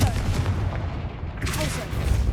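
A Confringo fire blast spell in Hogwarts Legacy on PS5, a dense rumbling burst of booming blast noise that fills the whole short moment, with a voice calling over it.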